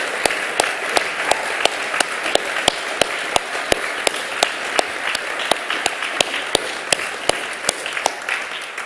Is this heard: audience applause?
yes